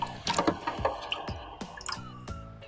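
Water splashing and dripping while a diamond flattening plate is rinsed off after flattening a whetstone, a short series of close, wet squishy splashes and drips.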